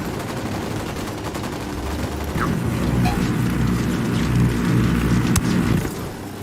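Sustained gunfire erupts during a firefight in Ghost Recon Wildlands, with rapid automatic bursts and a sharp single crack rolling over steady background rumble, close and loud with no talking.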